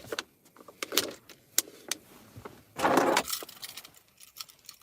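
Keys jangle and clink in short metallic bursts, with scattered clicks and rustling and a louder rattling jingle near the middle, all fairly close and with no talking.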